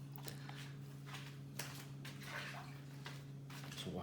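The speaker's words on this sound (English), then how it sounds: "Wash your hands there" Hands washed under a running tap while dressing a lobster in a kitchen, a steady spray of water running throughout over a constant low hum, with faint clinks.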